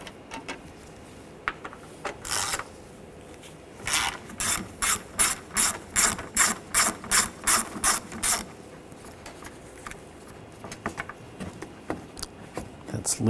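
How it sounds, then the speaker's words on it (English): Ratchet with an 8mm socket backing screws out of a 2.0L Ford Escape engine, giving a close, even run of a dozen or so sharp clicks in steady rhythm, with a few scattered clicks before and after. "Using a 8mm socket, take these screws out."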